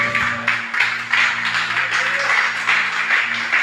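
Church congregation applauding during an evangelical service, a dense broadband wash of many hands clapping steadily throughout, with a low sustained organ or keyboard tone underneath.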